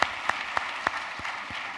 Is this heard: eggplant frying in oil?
no